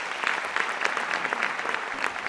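A conference audience in Namur applauds as a speaker is introduced. Many hands clap in a full, continuous round at steady volume, with no talking over it.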